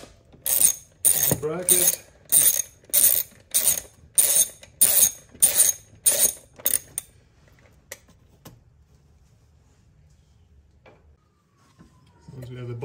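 A 10 mm ratchet backs out the bolt on the bracket covering an ignition coil of a third-generation Toyota Tacoma during a spark plug change. About eleven quick bursts of ratchet clicking come up close, then near silence, with a few spoken words.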